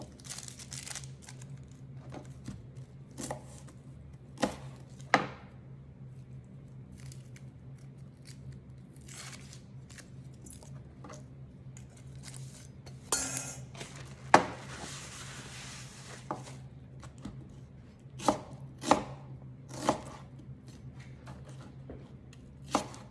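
A quarter of an onion is chopped with a knife on a board, giving scattered crisp cuts and crunches at an irregular pace over a low steady hum, fairly quiet and with no talk.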